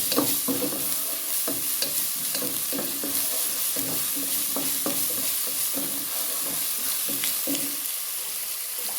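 Garlic and ginger paste fry in a pan for a rice lunch-box dish, giving a continuous close sizzle with busy, rhythmic spoon stirring and scraping throughout, and nobody speaking.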